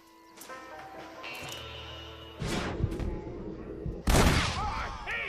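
Gunfire in the Western video game Red Dead Redemption: a few sharp, loud shots and booms bursting over music and background game sound, with a heavy blast near the end.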